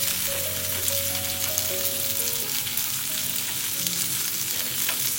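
A sous vide striploin steak sears in a hot pan with a loud, steady sizzle and crackle of fat. It is close and continuous, with faint clinks of a utensil and no talking.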